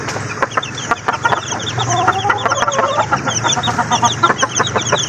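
Week-old Golden Boy Sweater crossbreed gamefowl chicks cluck and peep in a steady, busy chorus of many overlapping short calls, close and fairly loud throughout.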